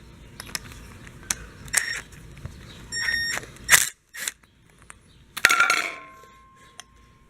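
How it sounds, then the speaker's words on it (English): The bowl nut on a lawn mower carburetor is loosened and removed. Faint, scattered metallic clicks, taps and clinks come one after another against a quiet background. "We remove the bowl nut."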